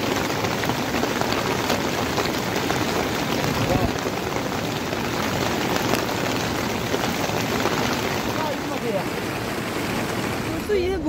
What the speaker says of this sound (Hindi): लेकिन अभी यहाँ बहुत तेज़ बारिश हो रही है